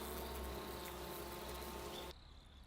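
Japanese honey bees buzz in a steady, dense hum near the hive, continuous and even before cutting off abruptly.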